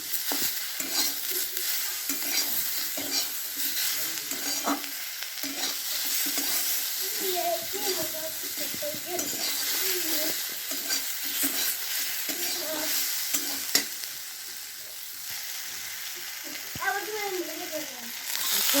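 Drumstick flowers and tomato stir-fried in a pan, a steady broadband sizzle with soft scraping stirs running throughout, close and moderately loud, with faint background voices.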